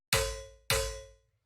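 Two hits of a metallic SOPHIE-style snare with a delay added, each clangy strike ringing out with a longer smeared tail, close and alone with no voices.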